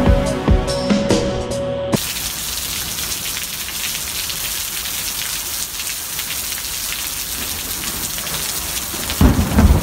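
Heavy rain pours steadily during a nearby thunderstorm with lightning, a dense continuous roar of drops with rumbling thunder swelling at the end; a brief burst of other sound opens the recording before the rain takes over.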